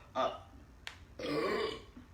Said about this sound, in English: Did she burp? Did you burp?